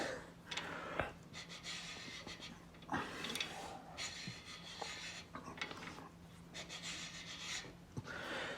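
Faint, heavy breathing in rhythmic bursts, mixed with rubbing and scraping of metal tools close by during a Holden V8 engine build.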